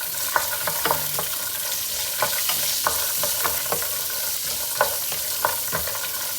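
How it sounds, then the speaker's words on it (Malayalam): Cashew nuts frying in ghee for a dum biryani, a loud steady sizzle with repeated soft scraping and clacks as they are stirred in the pan every second or so, heard up close with no talk. "ഇനി നമുക്ക് അണ്ടിപ്പരിപ്പ് വറുക്കാൻ പോവാണ്"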